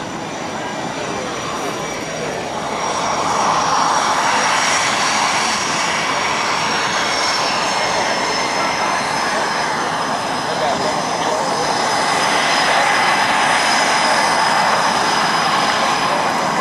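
The propeller engine of an F4U Corsair fighter drones steadily overhead at an airshow, swelling to a loud, sustained roar that holds for the length of the pass.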